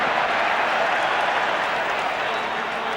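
A crowd of over 40,000 cheering and applauding at a 1991 AFL night match between Adelaide and Essendon, a broad, steady wash of stadium noise with no break.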